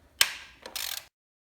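A 10 millimeter bolt being worked loose on a Honda Elite 150 scooter, one sharp metallic click followed by a short ratcheting whir, close and loud, then silence.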